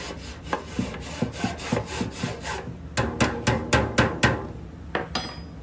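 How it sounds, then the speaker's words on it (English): A spoon grinds clumps of rubber star primer powder through a sieve in steady, rhythmic scraping strokes, about a dozen in quick succession, close and clear with a brief pause midway. "Use the spoon to grind them down, send them through."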